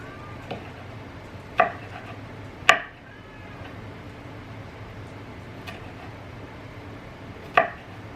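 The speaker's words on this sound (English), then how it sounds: "Didn't say to chop it, but I just kind of chopped it up just a little bit." Smashed garlic cloves are chopped with a knife on a kitchen cutting board, a few sparse, sharp knocks spaced seconds apart over a quiet room hum.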